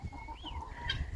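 Chickens clucking softly on a farm during gourd harvesting, a few short calls over a low outdoor rumble, fairly close but quiet.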